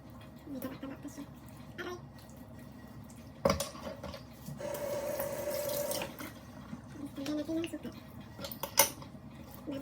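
Food is scrubbed by hand under a running kitchen tap, with water splashing and gushing into the sink, dishes and utensils clinking, and someone talking over it.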